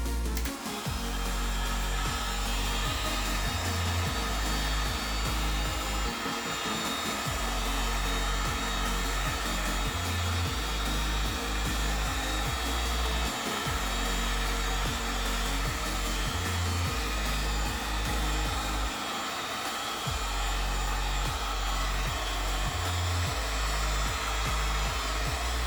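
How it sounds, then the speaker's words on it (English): A heat gun blows steadily while EVA foam armor pieces for a custom ARC Trooper costume are heated and shaped at desk level, a continuous loud airy whir with a low hum and a few brief dips, no talking. "Got your heat gun."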